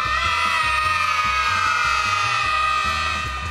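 An audience cheers and shouts loudly for the contestants at a children's racing game show, a dense continuous din of excited voices over a pulsing music bed.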